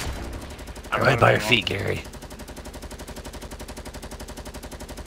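Rapid automatic gunfire in the Fortnite battle-royale shooter, a fast steady stream of shots running throughout, with someone talking over the first stretch.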